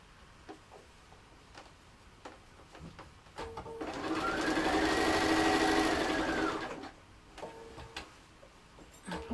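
A sewing machine stitches fabric for an animal cushion, a steady whirring run of a few seconds rising and falling in the middle, with faint clicks and handling noises before and after.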